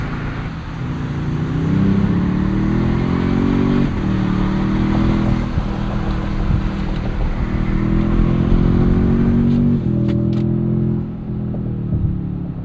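A tuned 466 hp twin-turbo 2026 Toyota Tundra TRD Pro pulls hard through short 10-speed gears, a loud steady engine drone with brief dips at each shift, heard from inside the cab.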